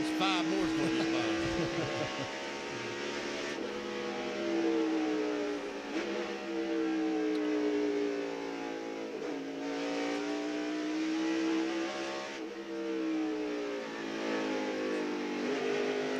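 NASCAR stock cars race at Watkins Glen in 1997, several engines close together droning and shifting pitch as they roar past, under steady commentary from broadcasters.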